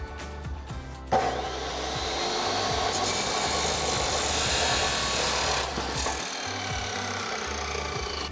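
A saw cuts through a clamped exhaust pipe for a Ford F-150 EcoBoost Flowmaster FlowFX dual exhaust install: a loud, continuous close grinding rasp starts abruptly and runs steadily for several seconds, then eases off near the end.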